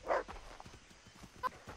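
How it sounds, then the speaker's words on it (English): Dogs in the video game Far Cry 3 give a few faint, distant barks and yips, with a short burst at the start and another near the end over quiet game ambience. "Oh, what's this? Dogs!"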